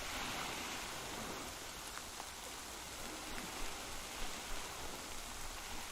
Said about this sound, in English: it sounds like rain as well. It's quite loud.